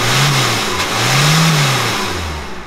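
A tuned car with a glowing, flame-effect exhaust tip revs hard in three rising and falling bursts, loud and close, with no talking over it.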